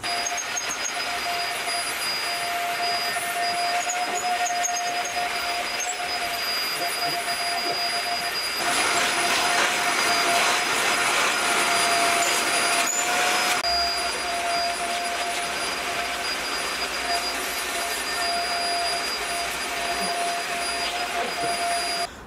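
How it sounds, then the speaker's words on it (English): A vacuum cleaner runs continuously on a sofa, a steady loud whine with a sustained tonal hum, rising in intensity briefly midway as the nozzle presses into the upholstery, with no talking over it. "first you're gonna wanna vacuum your sofa"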